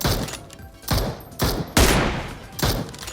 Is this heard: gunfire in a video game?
yes